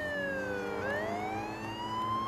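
An ambulance siren wails steadily, its pitch falling and then rising again, heard from a moderate distance with no talking.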